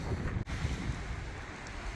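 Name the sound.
wind gusts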